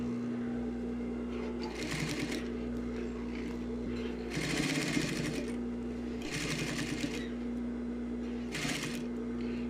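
A sewing machine stitches a zipper into a pair of trousers in four bursts of rapid, buzzing stitches, each separated by short pauses over a low steady hum.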